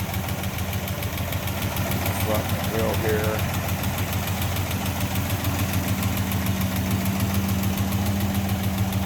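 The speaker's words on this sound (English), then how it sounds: "Smooth running engine." A 1952 Studebaker Commander's 233 cubic inch V8 idles smoothly and steadily, a constant close engine rumble with a light rhythmic tick, while someone talks briefly over it.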